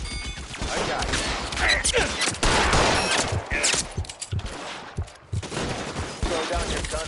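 Gunfire in the LA Noire video game: rapid volleys of sharp shots crack in irregular clusters, loud and close, with brief gaps between bursts.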